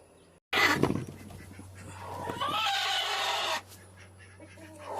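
Hens and a rooster in a chicken coop erupt in a loud, close burst of crowing and squawking lasting about three seconds, then settle back to quieter clucking over a steady low hum.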